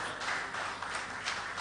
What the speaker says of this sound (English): Give a standing ovation to both father and mother now.